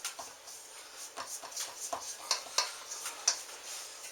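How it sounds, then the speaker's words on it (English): No-knead Parker House roll dough being stirred in a bowl, with soft scraping and irregular light clinks of a utensil against the bowl, quiet and close. "We're going to mix this all up nicely."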